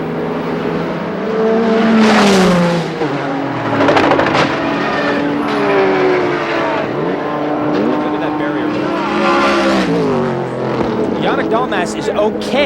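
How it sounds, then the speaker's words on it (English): Race car crashing at a motorsport event, loud engine roar with harsh bursts and rising, falling pitch sweeps throughout, heard with talk over the top. "it has just had an enormous crash"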